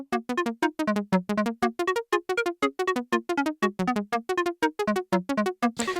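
An Usta sequencer plays a polyrhythm, with one track set to 1:2 and the other to 1:3, panned hard left and right. Two pitched synth pulse patterns interlock in a fast, dense, even stream of short tonal notes.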